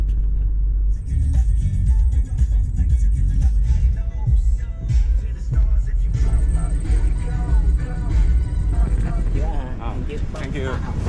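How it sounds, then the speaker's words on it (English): A car driving off to run errands: a steady low engine and road rumble runs throughout, with a person talking over it for much of the time. "just got into my vehicle and then we are heading out to do some errands"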